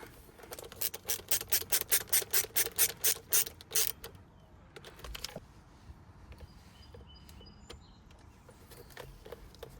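A ratcheting driver clicks in a quick, even run of about a dozen sharp ticks as screws go back into a Tesla Model S/X scroll wheel assembly, then quieter small taps and handling noises follow.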